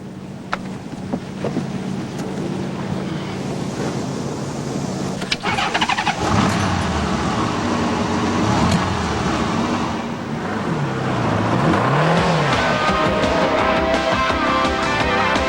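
Pulse vehicle with a 1200cc motorcycle engine starts up and revs, then drives off with rising and falling engine pitch and wind rush, loud and close.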